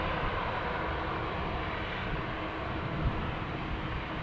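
A WestJet airliner at Edmonton International Airport rumbles past as a steady, faint, distant roar with a broad, even noise and no talking.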